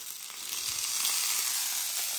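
Sausages sizzle steadily in a pan as they fry for a British hot dog, a continuous bright crackling hiss with no talking.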